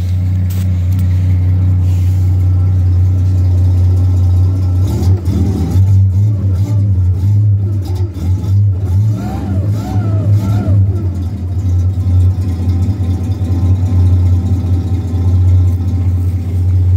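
A 1964 Pontiac engine with a new Thrush exhaust runs loud and steady, a deep idle rumble throughout with a brief rise in revs around the middle, while a voice speaks over it.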